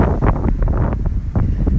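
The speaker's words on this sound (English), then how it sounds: "It is a bit windy, so I hope you can hear me okay." Strong wind buffeting a microphone outdoors beside a twin-axle 2014 Bailey Unicorn Cartagena caravan, giving loud, gusty low rumbles that rise and fall, with no voice over them.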